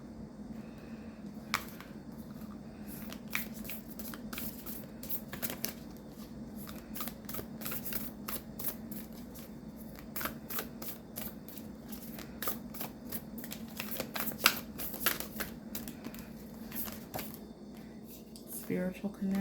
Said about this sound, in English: I want to pull a couple oracle cards for you